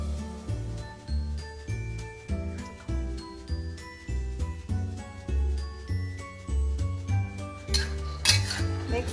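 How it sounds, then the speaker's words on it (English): A utensil scrapes and clinks steadily against a pan while roasted peanuts and garlic are stirred, giving a rhythmic metallic rattle with rustling nuts and a sharp clatter near the end. "Mixing it until it is done."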